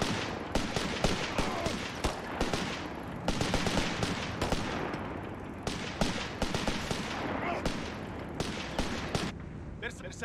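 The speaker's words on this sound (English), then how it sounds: "Taking small arms fire here!" Dense small-arms gunfire crackles throughout a Company of Heroes 3 battle involving Italian Bersaglieri infantry: rapid overlapping shots and bursts, loud and continuous, with brief voice callouts mixed in.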